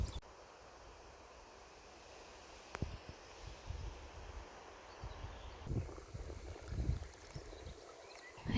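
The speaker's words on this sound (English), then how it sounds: "it's pretty windy as well" Wind blows outdoors at a summer picnic in Scotland, a steady, soft rush with light rustling and occasional low buffeting gusts close to the microphone. No one speaks.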